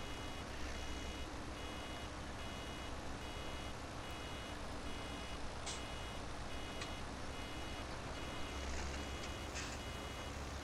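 Evenly spaced warning beeps from a farm vehicle in a field repeat as a faint, regular pulse over a constant engine drone.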